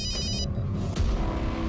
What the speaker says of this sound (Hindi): मोबाईलची रिंग वाजते